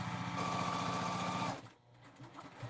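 A domestic sewing machine runs a straight stitch through vinyl, a steady rapid mechanical chatter for about a second and a half that then stops abruptly, leaving quiet handling noise.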